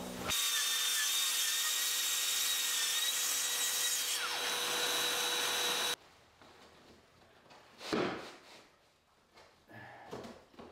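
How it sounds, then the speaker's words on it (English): Track saw ripping a strip of floor board for a garden room floor, a loud sustained high whine cutting for about six seconds, then stopping, followed by softer handling knocks and rubbing of wood. "I can get it ripped down using the track saw"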